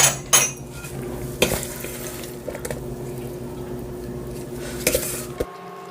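Steamed shishito peppers are tossed with added perilla oil in a bowl. Clinks of a spoon against the dish come at irregular intervals over soft wet mixing sounds, close and moderately loud.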